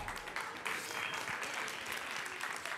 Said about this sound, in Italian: Grazie per gli immeritati per il momento applausi.